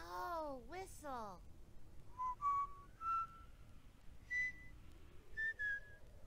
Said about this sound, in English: Why is he whistling Andy Griffin, bro?